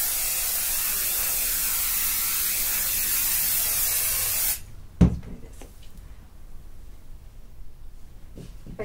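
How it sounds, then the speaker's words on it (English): A basting spray can hissed onto quilt batting in a long continuous burst of several seconds, then cut off, followed by a soft thump and light handling rustles. "just lift it off and spray it again"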